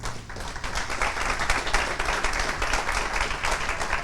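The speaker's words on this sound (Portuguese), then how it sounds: "eu queria que você desse uma salva de palmas para você mesmo" An audience at a lecture on depression and emotional dependence breaks into sustained applause, dense overlapping claps filling the room at a steady, fairly loud level without speech.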